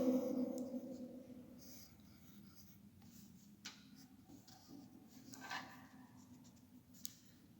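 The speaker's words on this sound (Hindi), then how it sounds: "कैपिटल कर्सिव का के लिखना सीख रहे हैं हम" Pen writing a capital cursive letter K in an English workbook, soft scratchy strokes close up and fairly faint, with a few light taps and page rustles along the way; no talking.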